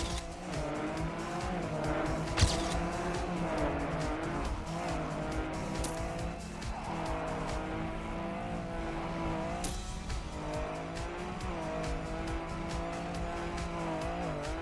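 Elk car racing in Trackmania, its engine holding a steady harmonic drone that rises and falls with gear shifts, with tire squeal and skidding throughout and a few sharp clicks or impacts along the way.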